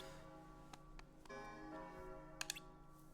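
A bell rings in Kingdom Hearts Re:Chain of Memories, a few soft chimes at a steady pace with a ticking rhythm, faint and mixed under sustained game music.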